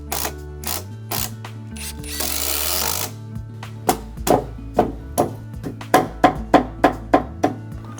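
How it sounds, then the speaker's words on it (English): A power driver drives screws into a Japanese cypress veranda frame post, first whirring in pitched bursts, then a brief rougher grind, then a rapid series of sharp clacking impacts close by. "I screw from the hidden part."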